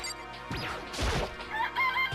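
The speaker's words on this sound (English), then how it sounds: "It's a chicken." A chicken in the video game Danganronpa crows and clucks over game music, with a sharp crowing call and then several shorter, bright clucks near the end.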